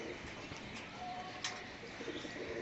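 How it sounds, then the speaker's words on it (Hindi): Domestic pigeons kept as desi high-flyer birds coo softly and intermittently from a rooftop, faint and somewhat distant over steady outdoor background noise. "ये देखिए मेरे कुछ कबूतर आ गए हैं"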